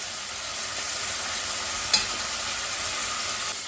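Pork pieces browning in a frying pan, a steady broadband sizzle holding evenly throughout with one brief sharper pop near the middle, no voices.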